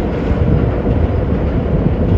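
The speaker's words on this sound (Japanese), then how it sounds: "京阪電車が走っています。" A Keihan electric train runs through Osaka, heard from a riverside pleasure boat as a loud, continuous low rumble of rolling wheels throughout.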